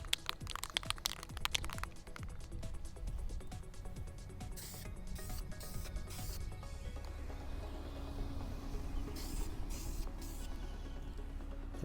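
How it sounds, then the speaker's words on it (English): Gusty wind buffets a microphone outdoors during spray painting of a prop's ear modules, a steady low rumble throughout with brief hissing spray bursts near the start and middle. "As usual, the wind is blowing like crazy whenever I'm trying to paint"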